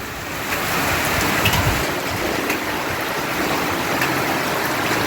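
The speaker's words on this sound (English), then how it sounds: "You see, it's pouring rain in the island Republic of Palau." Heavy rain pours steadily in the island Republic of Palau, a dense, even hiss of water that swells after the first half-second and stays constant.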